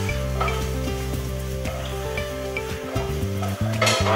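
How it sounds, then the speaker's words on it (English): Eggplant sizzling in a wok for a lamb and eggplant casserole, with a loud continuous frying hiss, irregular clatter as it is tossed and a low steady hum beneath. "So, okay, the eggplant's in here. Again, wonderful. We've got the wok. We can toss."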